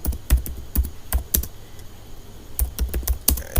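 Rapid, uneven clatter of keys typed on a computer keyboard, close and clear, with short bursts separated by brief pauses and no voices.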